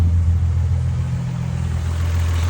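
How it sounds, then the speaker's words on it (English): A 1989 Toyota Supra MK3 with a 7MGTE engine, reported to have a code 52 fault, runs with a steady low rumble and mild rev, close and continuous without talk. "Rev it in here and let's hear it a little bit."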